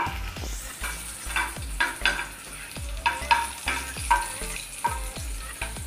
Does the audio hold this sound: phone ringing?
no